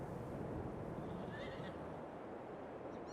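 Horse whinnying in Farming Simulator 22, a pitched neigh near the middle of the clip over steady ambient farm background noise, fairly soft and with no talking.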